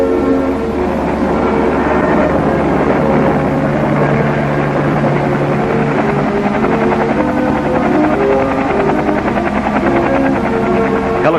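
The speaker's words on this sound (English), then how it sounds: "Helicopters were ready at Bao Vinh to rush the fresh troops to critical combat areas." A loud, steady mechanical roar with a rapid rhythmic thudding of helicopter rotors, military helicopters at Bao Vinh during the Battle of Hue, runs continuously without a break.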